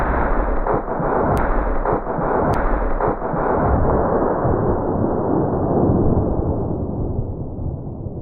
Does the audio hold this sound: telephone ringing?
no